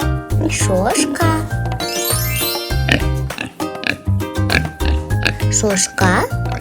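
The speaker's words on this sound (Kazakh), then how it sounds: "Шошқа үй жануарына жатады." A domestic pig grunts and oinks in short close bursts over steady speech, with a brief bright jingle partway through.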